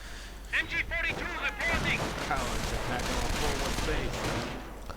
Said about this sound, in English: There we go, the thump of the mortar.